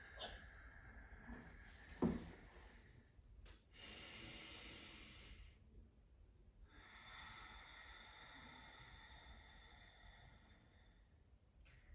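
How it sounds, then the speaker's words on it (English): Ujjayi ocean breathing during a power flow yoga session: slow, soft hissing breaths through the nose with a constricted throat, several long inhales and exhales at close range, faint and unaccompanied, with one sharper sniff early on. "the breath where we breathe in through the nose and out through the nose, but we create a whirlpool type pressure in the throat as we exhale"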